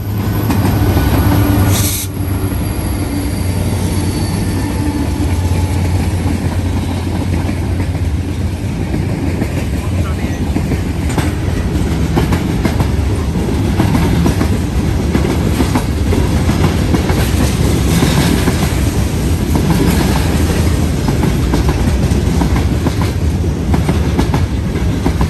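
A Norfolk Southern freight train with SD70ACE and Dash-9-44CW locomotives rolls past close by, a loud continuous roar of wheels and rail clatter with faint squeal, steady throughout with no talking.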